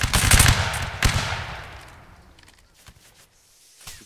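Musket volley in a Napoleonic Wars line battle game: a loud crackling burst of many shots at the start, a second volley about a second later, then fading echo and scattered distant shots.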